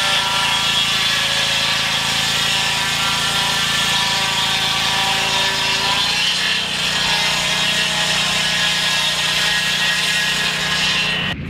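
A saw rips a red oak log into boards with a loud, continuous whining cut that holds steady throughout, its pitch shifting partway through, and no one speaking.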